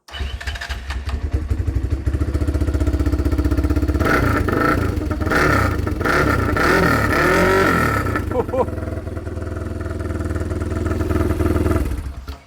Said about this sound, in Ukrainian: Завести його, щоб ви послухали цей вихлоп.